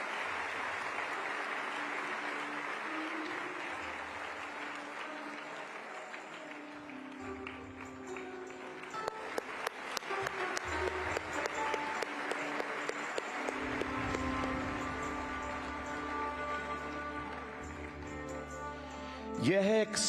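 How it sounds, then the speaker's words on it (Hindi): Large audience applause at a Hindu temple inauguration in Abu Dhabi, a long sustained roar of clapping that grows more crisp and rhythmic midway, with a faint hum and a brief louder burst at the end. "जोरदार तालियों से हम स्वागत करें।"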